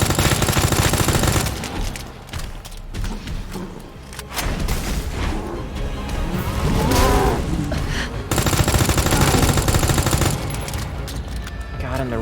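Rapid sustained gunfire from a gun in Resident Evil 2, a dense loud burst of shots with booming impacts that eases briefly in the middle and then returns at full intensity, with no talk.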